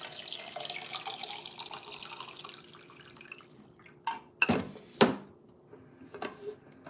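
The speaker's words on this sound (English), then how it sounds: "I'm just pouring myself water," Water is poured from a tap or bottle into a drinking glass indoors, with a brief run of trickling followed by several distinct splashy bursts and drips, fairly close and alone without talk.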